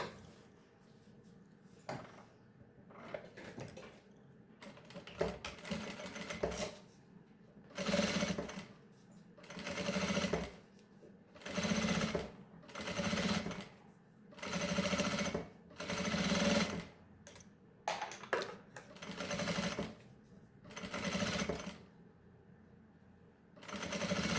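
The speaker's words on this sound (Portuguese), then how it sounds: "Vou passar uma costurinha bem na beirinha aqui, só prendendo o zíper no principal." A sewing machine stitches a zipper along the edge of a fabric baby pouch, running in about a dozen steady bursts of rapid whirring with brief pauses between them, close and clear.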